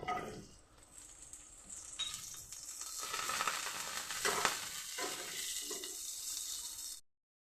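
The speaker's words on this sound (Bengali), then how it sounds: "এখন ড্রাই ফ্রুটগুলি একটু ভেজে নেব" Dry fruits fry in white oil in a wok, giving off a steady, soft sizzle that builds slightly and then cuts off abruptly.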